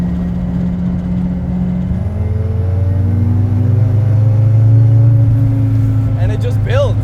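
A 550 WHP Nissan S14.5 240SX with an SR engine revs loud and close, its tone climbing steadily toward very high RPM as the pitch builds, with a voice talking over it.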